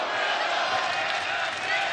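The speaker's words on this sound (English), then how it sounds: "And the crowd now starting to pick sides" Wrestling arena crowd at an AEW Collision women's match between Willow and Anna Jay, a dense, sustained roar of chanting fans splitting their support, loud and continuous with no distinct break.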